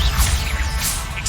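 A Confringo fire spell cast in Hogwarts Legacy makes a short burst of whooshing, whip-like magic with a rumbling low end that lasts about a second.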